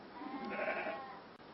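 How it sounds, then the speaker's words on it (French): A sheep bleats in a wavering, drawn-out call lasting over a second, heard close by with no talking. "les chiens de Lou Abadi qui auraient attaqué mes moutons"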